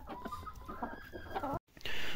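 Sick chickens in a damp coop clucking and murmuring in short uneven bursts, fairly close, with a brief gap before a louder rustling noise at the end.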